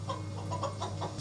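Chicken clucking in an episode of the Fallout TV series, a short run of soft, rhythmic clucks over a low steady hum, fairly quiet and brief.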